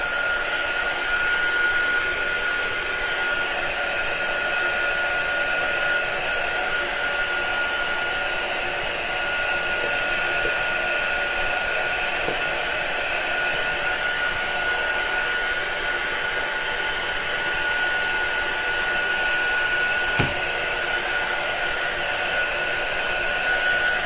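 A hair dryer blows in a steady, loud, unbroken whir for over twenty seconds while drying a freshly painted craft project, with no voices.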